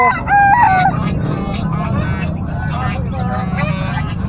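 A loud turkey call rings out close by at the start, then a bustling Saturday pet market din of voices and more distant fowl calls continues, in San Carlos City, Pangasinan, Philippines.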